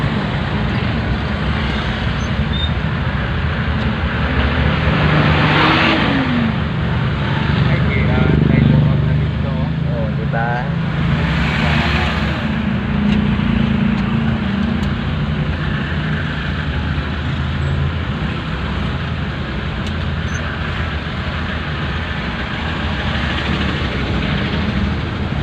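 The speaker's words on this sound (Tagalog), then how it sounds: "Traffic guys, traffic." Dense road traffic with cars and motorcycles crawling in a jam, a continuous broad roar with engines swelling and fading as vehicles pass nearby, while voices talk over the din.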